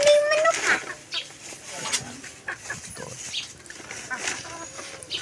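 Chickens clucking close by, with scattered short clucks and calls amid ambient farmyard noise while a person talks.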